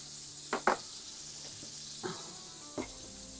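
Butter sizzles in a frying pan for Salisbury steak with a steady high hiss, broken by a few brief clinks or scrapes near the start and middle, alone without talk.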